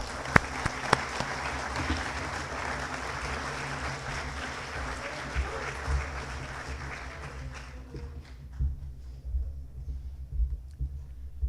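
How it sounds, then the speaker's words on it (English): A school football assembly crowd stands and claps for the team's helpers, with steady, broad applause that thins and fades toward the end, leaving scattered isolated claps and faint room rumble. "Give them a round of applause."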